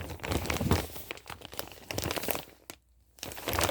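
A plastic bag used for collecting scrap yarn crinkles and crunches in steady bursts close up, with a brief quiet gap near the end before the rustling resumes.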